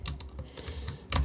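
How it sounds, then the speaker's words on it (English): Keys clatter on a computer keyboard as a title is typed, a quick run of close, light taps with a louder burst of strokes near the end, alone without speech. "You can just click and start typing."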